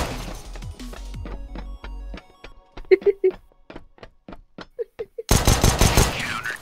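Rapid, sharp video-game gunshots in a 2 vs 2 match, some in quick bursts and others as single cracks, with brief tonal effects between them and a loud burst of noise near the end.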